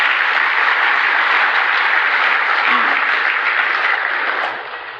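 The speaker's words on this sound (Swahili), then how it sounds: "Tuwapigie makofi jamani" Sustained loud applause from a lunch audience honouring Kenya's Harambee Stars football team after their CHAN run, an even dense roar of clapping that holds steady before easing off near the end.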